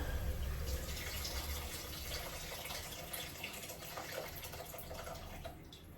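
A steady stream of water pours and splashes continuously into a cooking pot, fairly faint, with a hollow rushing quality and no speech.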